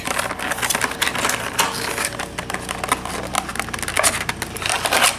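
Plastic packaging being peeled back from a boxed Bachmann Red Rosie model locomotive, a loud, close run of crackling, crinkling and snapping with no talk.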